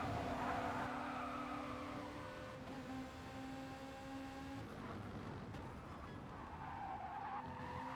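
Race cars in the Gran Turismo Sport video game squeal their tires under braking, sustained skidding tones over steady engine noise that persist across the whole stretch with no commentary.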